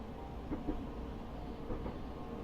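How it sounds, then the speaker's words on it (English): A train in Train Simulator Classic rumbles steadily and low, a continuous rolling drone with faint rhythmic clicks, fairly quiet and unchanging over the brief stretch. "So we have another train that's finally on the way."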